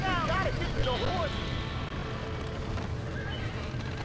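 A horse in the video game Red Dead Redemption whinnies twice near the start, over a dense bed of hooves, engine rumble and game noise, with voices talking over it.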